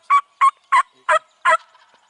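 A spring wild turkey gobbles in five evenly spaced, loud, close calls within about two seconds, with no voices over them.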